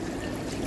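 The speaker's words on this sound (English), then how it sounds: "So, this is the waterfall." A waterfall pours in a steady, dense broadband rush, close and continuous without any break over a very short span.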